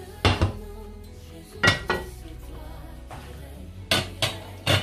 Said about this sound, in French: Donc pour ça, je vais utiliser une casserole.